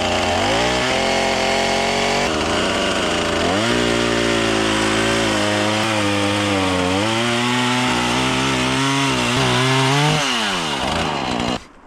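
Chainsaw trimming firewood logs at a bushcraft camp, a loud steady engine drone that rises and dips in pitch as the chain bites through the wood, running nearly twelve seconds before stopping.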